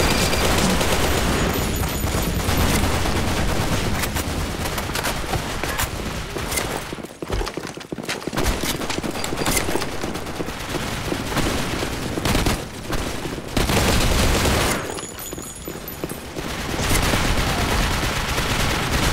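Rifle gunfire in the BlackShot online shooter game, dense rapid bursts of shots nearly continuous and loud, with brief lulls between volleys and occasional game sound cues.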